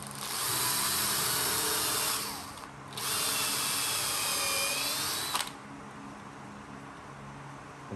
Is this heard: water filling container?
no